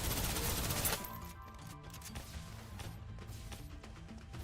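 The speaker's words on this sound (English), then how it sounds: "Did you not hear my gunfire?" Rapid gunfire bursts from the video game Snowbreak: Containment Zone, loud and dense for the first second, then continuing as scattered shots and impacts over game noise.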